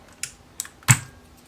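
Three separate clicky keystrokes on a mechanical keyboard with blue switches, spaced irregularly, with the last press loudest. The sound is close and clear over quiet background hiss.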